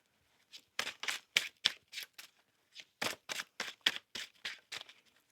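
Tarot cards are shuffled by hand in a quiet room, giving crisp riffling bursts in two runs of rapid, evenly spaced flicks, close and clear with a short pause between them.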